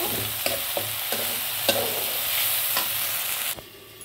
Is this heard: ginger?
yes